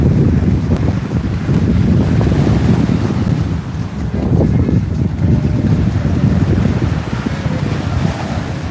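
Powerboat catamarans race past the Torquay seafront, a continuous loud roar of engines buffeted by heavy wind noise on the microphone, with no break throughout.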